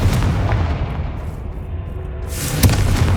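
A Confringo blasting spell explodes in a PS5 video game, a continuous roaring, booming blast with a sharp extra crack near the end and no pause.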